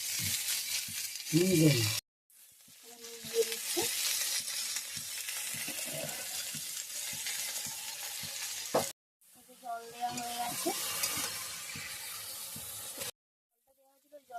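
Small pieces of kudri or kucho frying in oil with turmeric, a bright hissing sizzle with stirring scrapes, broken by abrupt cuts of silence, and a voice briefly talking near the start.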